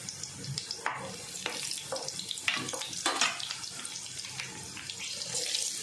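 Chillies fry in hot oil over a low gas flame, a continuous crackling hiss broken by scattered pops and spatters from close by, with no voices.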